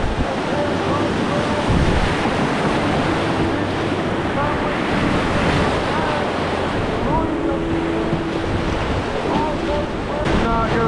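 River rapids washing and splashing around an open canoe at about 1400 cfs: continuous loud rushing water and surf-like churning, with wind buffeting the microphone and no clear speech.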